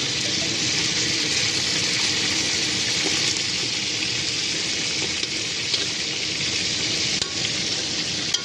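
Fish heads fry in oil in a pan, a loud, continuous sizzle with bubbling and crackling that holds steady throughout, with occasional faint stirring knocks.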